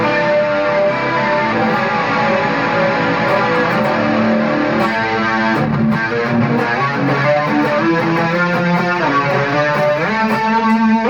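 Distorted electric guitar through a GT51 effects unit with a shimmering chorus effect, playing a continuous run of chords and notes, loud and close, with no talking.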